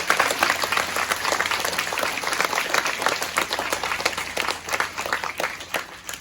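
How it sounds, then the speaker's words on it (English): A school audience at a Year 6 farewell presentation day claps in a long, even round of applause that is dense and continuous, with no talking over it. "We'll give these for a huge big round of applause."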